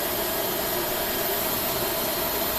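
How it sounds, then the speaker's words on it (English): Airbus A320 jet engines idle in the FSX flight simulator, producing a steady, even whine and hiss with no change in pitch or loudness. "Just making sure the engines are still idle."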